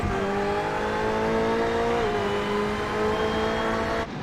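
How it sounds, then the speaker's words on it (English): A race car in a sim racing game at Snetterton 300 holds its engine against the rev limiter, a steady high buzzing drone with a slight pitch dip midway, loud and close with no talk over it. "Look how they hit that rev limiter and just keep going on it."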